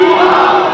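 A large crowd at a religious gathering roars a Takbir slogan response in unison, one loud sustained collective shout filling the whole moment without pause.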